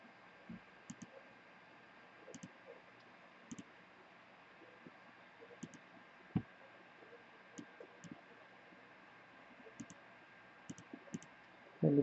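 Computer mouse clicks while working in GIMP image-editing software: soft, sparse single clicks at irregular intervals, faint and close, over a quiet background hiss.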